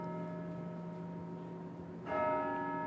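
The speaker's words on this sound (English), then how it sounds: "I'll wait for the bells." Church bells sound during a county plan commission meeting, a sustained ringing tone that swells louder with a fresh strike near the end.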